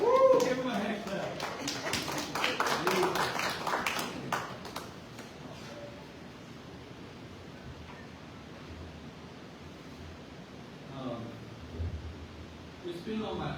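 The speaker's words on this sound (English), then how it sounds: "Give him a hand clap." A church congregation claps after singing happy anniversary to a couple. Sharp, scattered hand claps ring out for several seconds before fading into quiet room tone, with a faint voice later.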